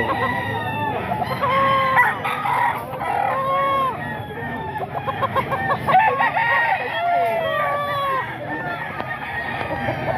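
Several roosters crow loudly and repeatedly, overlapping one another, with hens clucking steadily underneath throughout.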